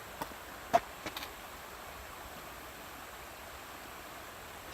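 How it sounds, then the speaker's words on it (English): A river rushes steadily beneath a bridge on a forest hiking trail, giving a constant broadband hiss of flowing water, with a few brief knocks or footfalls near the start and no talking. "it is a really awesome river"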